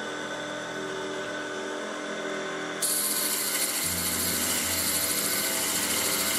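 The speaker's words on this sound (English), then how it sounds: "You can hear the ripping going down as the diamond bites in." A Facetron faceting machine grinds a diamond with a steady, harsh whirring rasp that shifts to a louder, brighter ripping tone partway through, with no talking.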